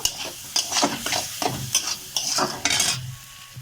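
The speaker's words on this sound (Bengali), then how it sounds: "সেদ্ধ করে রাখা আলু দিয়ে এটাকেও আমি আবারও ভালো করে সুন্দর করে কষিয়ে নেব" Boiled potatoes being stir-fried with spices in a pan while cooking geri/gugli (snails), with repeated scraping stirs over a steady close sizzle, no voices.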